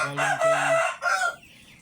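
A Rhode Island rooster crows once, loud and close, a full cock-a-doodle-doo with a trailing final note.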